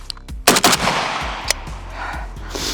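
Two sharp, loud 5.56 rifle shots crack out in rapid succession from a cheap AK and echo at close range outdoors. A fainter pop follows a moment later.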